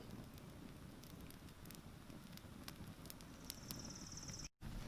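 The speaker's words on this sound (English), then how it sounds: "So now that I have this fire going is when I would add a little bit more wood to it" A small campfire of forest wood built with one match burns steadily with soft, continuous crackle and hiss, fairly close, with a few brief sharp pops scattered throughout and no talking.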